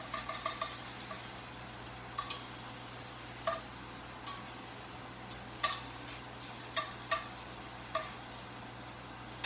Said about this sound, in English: I am frying some bacon for my salad